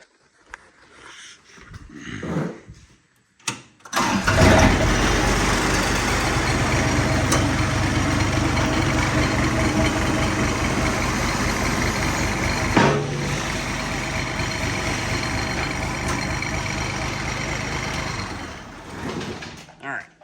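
A broken-down John Deere 855 compact tractor under repair is started after a few quiet seconds with some talk. Its engine then runs at a steady, loud idle for about fifteen seconds before winding down near the end.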